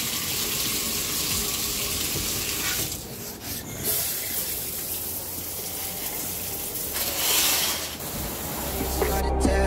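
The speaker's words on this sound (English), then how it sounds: "so now it's time for a shower after a long day so far" A shower runs steadily, a dense close hiss of spraying water with brief shifts as the stream is interrupted, continuous from start to finish.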